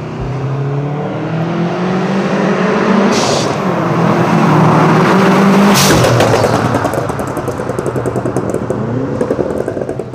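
A stage 3 tuned car with a newly fitted engine revs hard and loud up close, its exhaust crackling and popping sharply toward the end; no one speaks.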